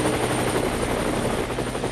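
Helicopter rotor chopping steadily at close range, loud and continuous throughout, staged as a comic-style sound effect of the aircraft flying away.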